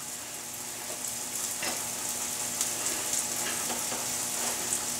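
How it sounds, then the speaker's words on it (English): Olive oil and rosemary slurry sizzles on no-knead bread as it is brushed on, a steady close hiss with faint brushing strokes and light crackles throughout, no voices. "And you can hear it sizzle."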